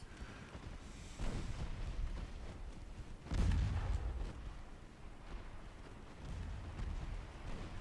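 Naval guns fire in a World War I dreadnought battle game, heavy booms landing about a second in and again near three and a half seconds, with a low rumble continuing in between.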